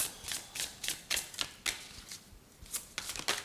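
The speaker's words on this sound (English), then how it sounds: "let's go ahead and shuffle our next few cards here for you guys" Quick bursts of tarot cards being shuffled and riffled, crisp papery flutters coming in irregular clusters with brief pauses between, close and fairly quiet.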